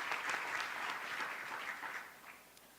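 An audience applauding a school principal at a school district meeting, steady clapping from many hands that slowly fades toward the end, moderately distant and quiet, no voices over it.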